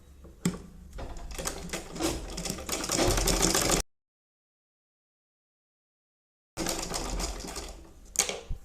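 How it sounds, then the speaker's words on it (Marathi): A sewing machine runs a straight stitch on a baby cap (tikli topi), whirring in two close bursts separated by a few seconds of silence. "आता वरून 1/2 इंचावरती एक स्ट्रेट स्टिच मारून घ्या."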